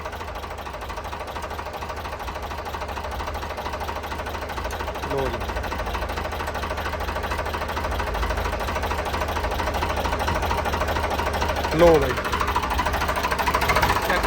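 A used tractor's engine, a 3511 offered for sale, runs steadily throughout with a low continuous knocking drone, close and loud, while someone talks briefly over it near the end.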